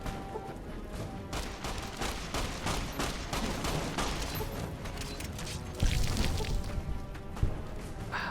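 Sustained volleys of companion gunfire in Fallout New Vegas, dense overlapping shots and bursts rattling continuously, with a couple of sharper, louder blasts near the end.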